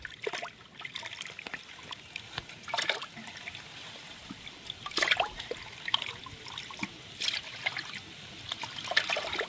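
Pond fish being rinsed and washed in water, with intermittent trickling, splashing and dribbling sounds close by, moderately quiet with no talking.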